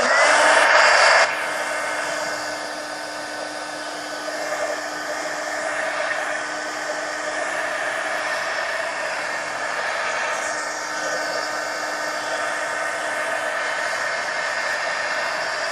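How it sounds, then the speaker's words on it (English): A heat gun blows a steady, close, continuous whooshing hiss while drying paint in a mixed media journal, with a louder burst at the start before settling into an even drone. "let me hit this with the heat gun so that I can put another coat on"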